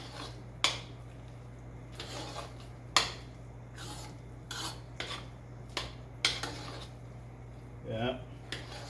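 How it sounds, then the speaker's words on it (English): A spoon stirs cheddar cheese into mashed potatoes in a bowl, making irregular scraping strokes and light clinks against the dish, close and moderately quiet. "You just stir that right in."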